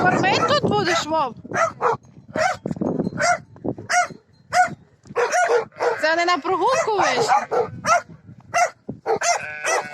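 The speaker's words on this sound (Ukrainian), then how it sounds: "Тут іще в нього собаки, дивіться, який волкодав." A wolfhound barks and yips repeatedly in quick bursts, nearby and loud, mixed with people talking on a snowy village farm.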